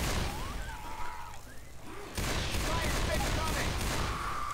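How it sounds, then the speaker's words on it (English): A pipe bomb goes off in Left 4 Dead 2 during co-op play in a mall: a sudden loud burst of blast noise cuts in midway and holds as a dense, sustained roar over the game's background din. "My pipe bomb."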